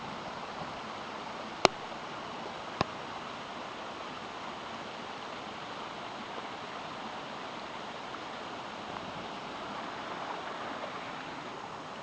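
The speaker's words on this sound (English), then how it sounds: "I have to show you guys this beautiful waterfall here." Leura Falls in the Blue Mountains pours in a steady, dense hiss of falling water, constant and enveloping from start to finish, with two brief clicks near the beginning.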